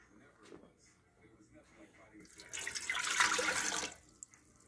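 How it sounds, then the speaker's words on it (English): Water is poured into a mixing bowl for pizza dough, a short splashing pour rising after a quiet start and stopping abruptly, with faint talking before it. "first, we pour this water in there."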